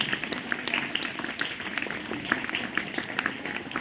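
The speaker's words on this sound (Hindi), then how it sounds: "जोरदार ताली से आज के दिन का स्वागत करिए।" An audience at a motivational talk claps, a dense patter of many hands running steadily throughout, moderately loud and even, with no break.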